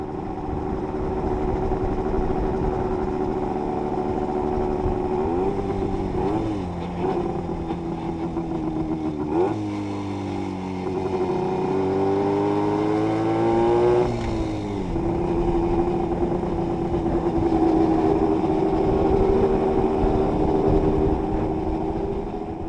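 A Villiers two-stroke engine on a Panther 35ES motorcycle runs with a steady, buzzy drone, rising and falling through several revs midway before settling back to a constant idle-like hum, close and fairly loud.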